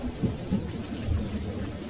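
Low rumbling thunder rolls beneath steady, dense rain, a continuous wash of noise with no voices.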